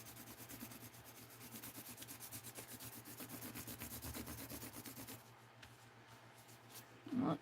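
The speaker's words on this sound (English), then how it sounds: "really rub the edge here so I can see" Steady rubbing on the edge of a paper art journal page, a soft continuous scratchy friction that stops partway through, then a brief louder handling noise at the end, faint and close.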